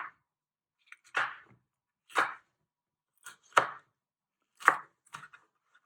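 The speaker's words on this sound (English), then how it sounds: "First you chop the pepper in half again, and you want to finely slice it." A kitchen knife finely slicing a pepper on a cutting board makes about five crisp, separate cuts, spaced roughly a second apart, close and alone in an otherwise quiet room.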